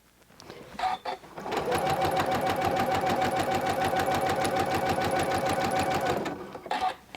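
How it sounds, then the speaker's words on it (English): Sewing machine stitching a quilt block onto a jacket runs in a fast, steady mechanical chatter for about five seconds, nearby and loud, with brief clicks before and after. "I'm just sewing a 1/4 inch in from the edge is what I'm doing"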